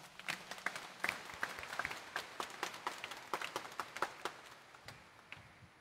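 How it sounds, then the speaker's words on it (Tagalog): Scattered clapping from a church congregation at a Sunday Mass in Quiapo, Manila, distinct individual claps in loose irregular rhythm, fairly soft and roomy, slowly thinning out toward the end. "itaas nga ang kamay at pumalakpak ng mas malakas"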